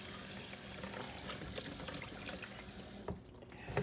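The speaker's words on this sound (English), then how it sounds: "So now what she's going to do is rinse her fish off." Tap water running while a fish is rinsed in a kitchen sink, a steady close splashing hiss with small irregular splatters throughout and no one speaking.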